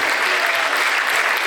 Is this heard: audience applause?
yes